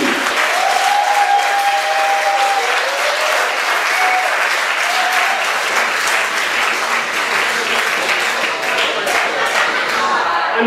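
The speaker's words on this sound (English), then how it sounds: "let's hear a big round of applause for Noel Murphy." A stand-up comedy crowd breaks into loud, sustained applause and clapping that fills the room for the whole stretch, with faint voices and cheers mixed in.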